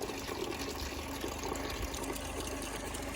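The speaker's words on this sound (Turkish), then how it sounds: "Burcapları da sularını dolduruyor tertemiz" Clean spring water pours steadily into animals' drinking bowls, a continuous close gushing and splashing fill with no talk over it.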